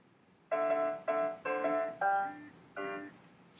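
A short run of five bright, tonal Super Mario Bros. video-game bleeps plays in a quick melodic sequence, chiptune-like and clean against near silence.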